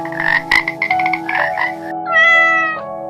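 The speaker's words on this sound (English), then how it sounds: "frog," A frog croaking loudly and close in a rapid series of throaty, pulsing calls, followed by a longer drawn-out tonal croak, with no other sounds or voices.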